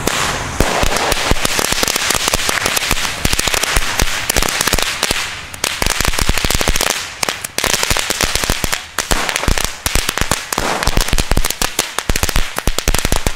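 A Rabiator 500 firecracker chain rips off during New Year's Eve fireworks, a loud, dense barrage of sharp cracks and bangs rattling continuously for over thirteen seconds with brief uneven gaps.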